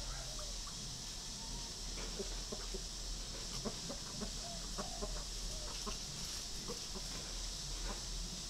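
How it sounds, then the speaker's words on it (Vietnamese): A hen of jungle fowl crossbreed clucks in short, scattered bursts amid other farm birds, fairly faint against a steady background hiss, with no voices over it. "đây là chú gà mái kiểu dạng lai rừng"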